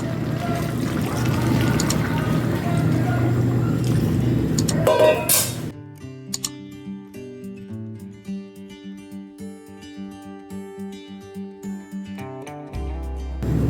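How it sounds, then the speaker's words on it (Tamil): Coconut milk poured into a pot of creamy homemade potato soup, a loud continuous liquid rush that gives way to softer trickling and bubbling in the pot. "தேங்காய் பாலை ஊற்றி ஒரு கொதி வந்தோடனே இறக்கிடணும்."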